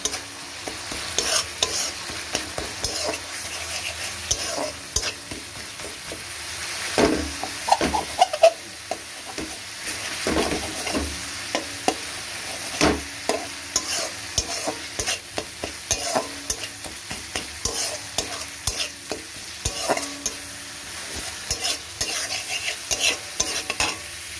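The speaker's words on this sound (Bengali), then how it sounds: "লঙ্কা গুঁড়ো দিয়ে এবার এটাকেও ভালো করে কষিয়ে নেব।" Chili powder and spice masala fry and sizzle steadily in a pan, with repeated scraping stirs running through the whole stretch and no one talking.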